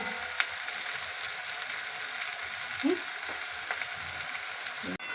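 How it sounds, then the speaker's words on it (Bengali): Onions fry in a pan as the base for mutton biryani, sizzling steadily and close up, with occasional soft clinks of stirring. "পেঁয়াজ ভাজা প্রায় রেডি"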